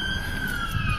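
Sirens wailing outside near a beach, a steady high electronic tone gliding slowly in pitch, heard moderately far off over a low rumble of traffic and wind.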